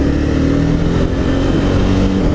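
A 2015 Honda CBR 300R motorcycle engine-brakes on the road, a steady loud droning engine note that holds close and even with a slight pitch dip partway through.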